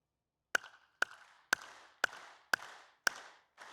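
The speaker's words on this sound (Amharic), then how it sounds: "እንደኔ አጨብጭቡ ሁላችሁም" Hands clap in a slow, even rhythm during a religious teaching, seven sharp, close claps spaced about half a second apart against near silence.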